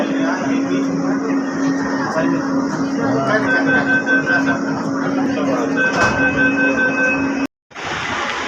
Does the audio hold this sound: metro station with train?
yes